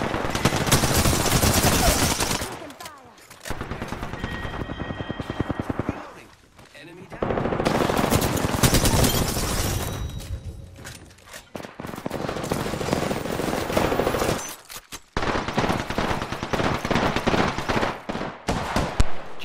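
Sustained automatic gunfire from the video game Apex Legends comes in long, loud, dense bursts separated by brief pauses, with rapid cracking shots continuing to the end and only light talk underneath.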